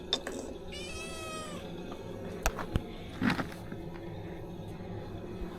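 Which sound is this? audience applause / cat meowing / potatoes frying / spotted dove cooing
cat meowing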